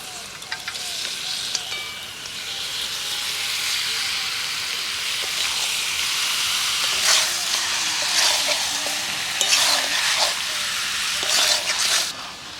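Duck meat frying with spice paste in a pan at an outdoor village picnic, a steady loud sizzle and hiss with occasional scraping stirs throughout, no speech.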